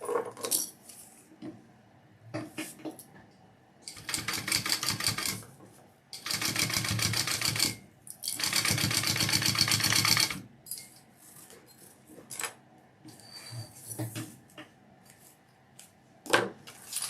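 A sewing machine runs in several bursts, top stitching and basting bag pieces together, with longer loud whirring runs in the middle separated by quieter clicks and handling of fabric.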